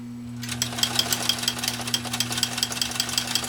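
Restored Pfaff 332 all-metal walking foot sewing machine slowly stitching through three layers of nylon webbing: a steady motor hum with rhythmic mechanical thumps of the needle, close and clear.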